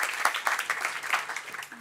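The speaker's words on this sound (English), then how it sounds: "Give them another applause." At a cyber and privacy conference, an audience applauds a panel, a moderate patter of many hands clapping in uneven bursts, fairly close and continuous for the short stretch.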